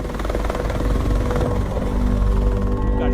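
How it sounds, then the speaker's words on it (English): Three helicopters fly close overhead, their rotors making a loud, continuous thumping whir that holds steady without pause. "We've got 3 helicopters flying."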